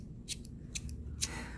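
Small thread snips for crochet, used with raffia yarn, cut three times in crisp, close metallic snips spaced about half a second apart over a low steady background hum.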